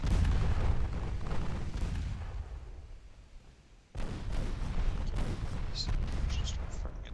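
Naval gunfire from Royal Navy warships engaging heavy cruisers in the Ultimate Admiral: Dreadnoughts game booms out in repeated heavy salvos, dips into a quieter lull, then resumes with a sharp burst of cannon fire and further blasts.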